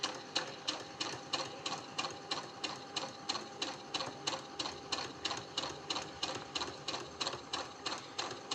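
A sewing machine stitches fabric along a marked dotted line for a quilt block, running in a fast, steady mechanical rhythm of even repeated pulses that carries on unbroken and alone.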